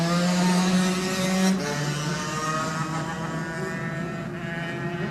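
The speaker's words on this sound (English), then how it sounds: "Gary Vines away on the first of the Binch Racing Yamahas." A Yamaha Lightweight race motorcycle at the Classic TT pulls away from the start, its engine note loud and close, rising in pitch then falling back as it accelerates off, with a steady roar throughout.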